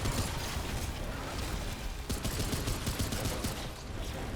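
Rapid, dense gunfire from the video game Remnant 2 rattles continuously and loudly, with shots overlapping into a sustained burst broken by a brief gap midway.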